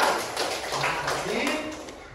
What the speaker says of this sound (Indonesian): tepuk tangan dulu buat teman di sana.